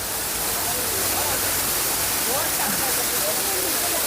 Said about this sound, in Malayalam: പാഞ്ചാലിമേട് കഴിഞ്ഞ് പിന്നെ നേരെ വന്നത് വളഞ്ഞങ്ങാനം വാട്ടർഫാൾസ് ആണ്